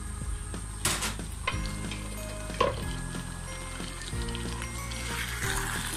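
Boiled and peeled small potatoes being stirred into beef in a pan for Dhakaiya beef tehari, with a steady frying sizzle and a few sharp scrapes and clinks of the utensil against the pan.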